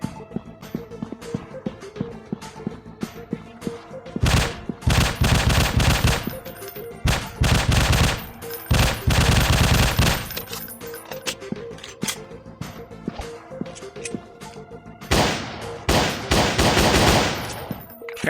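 Bursts of automatic gunfire from the hunting game Dinosaur Hunt: Africa Contract, loud and sustained rattling volleys separated by quieter stretches with mechanical clicks of weapon handling, no talking.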